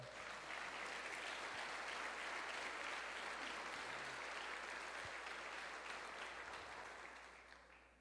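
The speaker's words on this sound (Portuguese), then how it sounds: "essa palavra merecia um aplauso aqui também" Applause from a church congregation during a sermon, steady clapping from many hands that stays even at a fairly quiet level before fading out over the last second, without speech.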